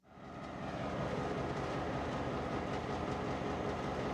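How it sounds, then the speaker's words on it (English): Freight train 3833 during a brake test on its inbound cut of cars, a loud continuous roar of air and idling engine that swells up quickly and holds steady. "The crew of the 3833 is now performing a brake test on their inbound cut."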